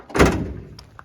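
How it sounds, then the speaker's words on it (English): The tailgate of a Sierra pickup truck swung shut in one solid, close thunk with a short rattle as it settles and a faint click after. "So let's see how well it shuts."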